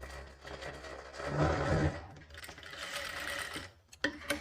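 An electric sewing machine runs double stitching along a katori blouse in two long bursts separated by a short pause, then gives one brief final spurt, loud and close with no voices.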